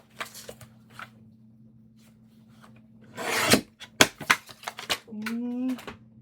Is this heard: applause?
no